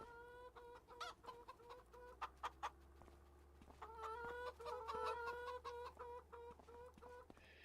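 Farm chickens on a Missouri farm clucking close by, a run of repeated short clucks and rising cackles over a low background rumble, with no talking.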